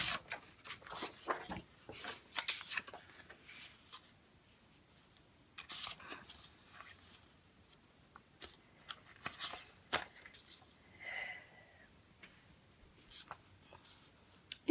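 Paper for a junk journal is being ripped by hand in short, quiet tearing and rustling bursts, close up and soft, with long pauses between handling noises.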